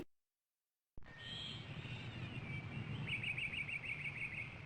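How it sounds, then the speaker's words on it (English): Game audio from the 1991 CDTV title Scary Poems for Rotten Kids: birds chirp in a steady chorus with a rapid repeated trill, over a low ambient bed that starts abruptly after a second of silence. "Look at those birds, my little friend, especially that one at the end."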